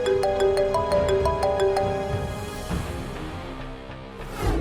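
Phone ringtone sounding after a call is placed again, a bright repeating melodic pattern that plays close for a couple of seconds and then fades into a quieter room.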